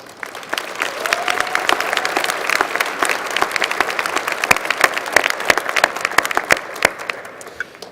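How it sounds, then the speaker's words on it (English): Graduates and guests at a business school winter commencement giving a round of applause, a dense, sustained mass of clapping with sharp individual claps standing out close by, filling a large hall. "Give yourselves a round of applause."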